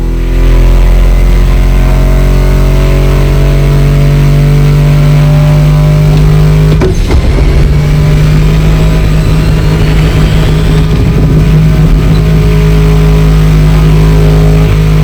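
Muscle car engines in The Crew video game: a loud, sustained engine drone with a steady low hum, briefly broken by a sharp transient in the middle before the engine tone resumes.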